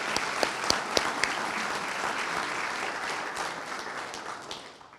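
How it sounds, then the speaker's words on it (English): A crowd at a mayor's State of the City address breaks into applause, a few sharp claps standing out at first before the dense clapping holds steady and then tapers off near the end. "They deserve a round of applause."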